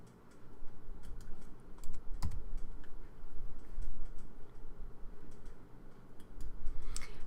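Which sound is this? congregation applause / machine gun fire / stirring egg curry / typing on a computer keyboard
typing on a computer keyboard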